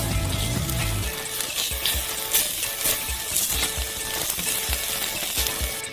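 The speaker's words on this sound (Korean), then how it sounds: "낮은 열에 치즈를 계속 부수면서 섞어줘요." Cheese with orange dye, baking soda and salt sizzles in a pan over low heat, crushed and stirred with steady scraping strokes over a constant frying hiss.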